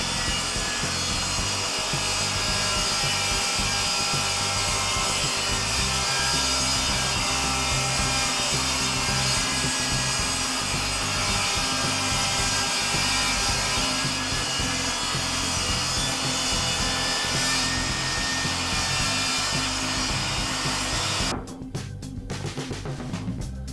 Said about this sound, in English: I'm going to start by milling it by ripping it down to 3-inch boards on the table saw.